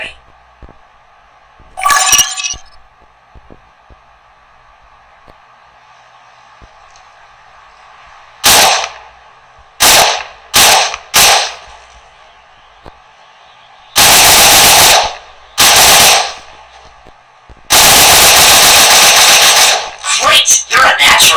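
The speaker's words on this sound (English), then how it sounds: "Now let's try firing a weapon. Slide the right side of the screen and aim at the enemy." Machine gun fire in the Cyber Hunter video game comes as several sharp, loud bursts of rapid shots. Short volleys are separated by quiet gaps, and a longer sustained burst closes the sequence.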